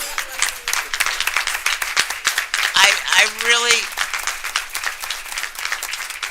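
At a township council meeting, a room of attendees claps in scattered, uneven bursts for standing parents, while someone speaks over the applause.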